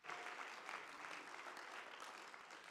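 A church congregation claps hands in praise during a Sunday School service, a steady, dense patter of many hands at moderate distance, continuous throughout without any voices standing out.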